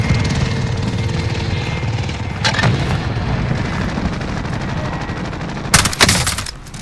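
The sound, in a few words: attack helicopter in Call of Duty Warzone video game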